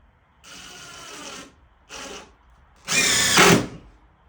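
Power drill driving screws into a wooden two-person picnic table: three bursts, two shorter whirs followed by a louder, longer final drive that bogs down at the end, with no talking.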